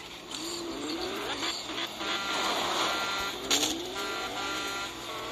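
Electronic beeping during a Fortnite Battle Royale match, a persistent buzzing tone layered with game noise, steady and fairly close, running for several seconds.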